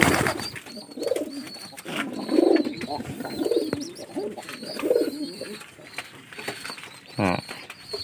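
Pigeons coo in soft, repeated bursts inside a loft, close by, with occasional flaps and chirps and a person speaking quietly in between.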